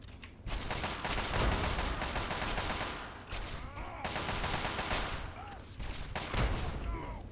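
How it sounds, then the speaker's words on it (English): Grenade blasts and rapid gunfire from a Fallout 3 firefight come in dense bursts separated by brief lulls, loud and close. "Somebody is throwing grenades at me."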